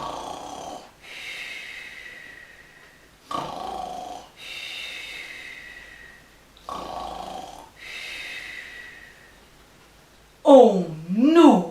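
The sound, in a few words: snoring imitated by storyteller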